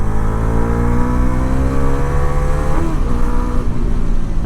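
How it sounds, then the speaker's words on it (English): A Bajaj Dominar 400 with a 350cc engine rides along a main road, its engine droning loud and steady with rising harmonics as it accelerates, and a brief shift or throttle change near the middle. "let's see how the all new Dominar 400 with the 350cc engine performs"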